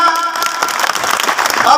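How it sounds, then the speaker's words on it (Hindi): A burst of crowd applause at a public honoring ceremony for elected representatives, loud and dense clapping filling the short moment. "जोरदार तालियां।"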